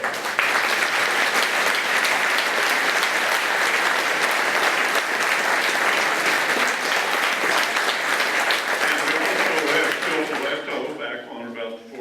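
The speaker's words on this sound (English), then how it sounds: "let's applaud her." Sustained, loud audience applause at a Veterans Day gathering honoring a World War II veteran, thick crowd clapping that carries on for several seconds before tapering off near the end.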